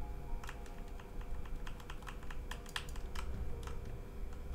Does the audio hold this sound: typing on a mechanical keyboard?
yes